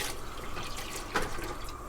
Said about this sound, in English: And now to this, I'm going to add the tomato juice.